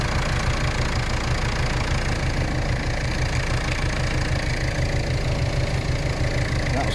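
A Ford Fiesta 1.6 TDCi diesel engine idles close by with an even, rapid clattering knock, loud and steady with no voices over it.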